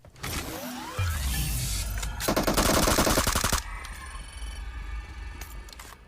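Rapid bursts of rifle fire and mechanical clatter in PUBG Mobile, a dense run of rattling shots in the middle with loud metallic ticks and game effects before and after.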